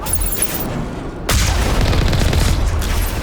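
Turrets firing at an asteroid base in the Mass Effect video game: a burst of booming shots, a short lull, then sustained loud rumbling fire, with no talk.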